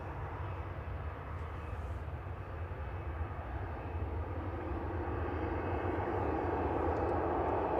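A Ryanair jet lined up on the runway at Manchester, departing for Alicante, gives a steady, faint low engine rumble heard from afar that gradually swells louder.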